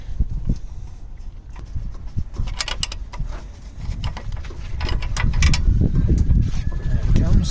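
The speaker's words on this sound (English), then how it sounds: "Okay, now we need to completely take this bolt out." Bolt being worked loose from the control arm of a Mercedes Vito W639 van, a run of close metallic clanks, clicks and ratcheting that gets louder and denser toward the end.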